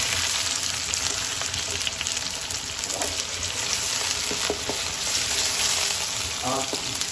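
Chicken thighs and chopped onion sauté with salt in a hot pan for chicken korma, a steady, close sizzle and crackle filling the whole stretch, with a few soft stirring knocks near the end.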